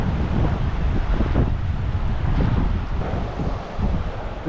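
Steady strong wind gusting outdoors beside the lower Santa Ana River in the San Bernardino Mountains, loud buffeting against the microphone with a roaring, surf-like wash throughout.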